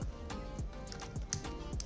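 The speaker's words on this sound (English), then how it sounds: "Come on, I should be able to type." Quick, fairly faint typing on a computer keyboard, with a rapid run of light key clicks close by in a quiet room.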